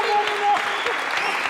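A TV studio audience applauds Marina Vlady, a dense, steady wash of clapping filling the short stretch from start to finish.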